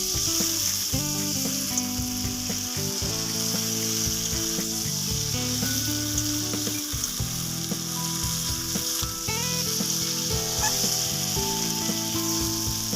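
Malabar spinach, potato and meat frying together in a pan, giving a steady, close sizzle that runs the whole time with soft stirring scrapes and a faint tonal hum behind it.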